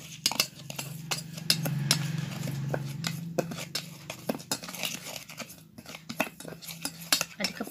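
A spoon scrapes and clinks in a bowl as coconut oil and olive oil are stirred together for a homemade skin care mix, giving close, irregular clicks and taps over a low background hum.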